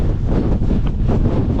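Gale-force wind blasts over a Lake District mountain top in the Langdales, a loud, steady low roar pounding the microphone with faint gust swells and a hint of voice buried underneath.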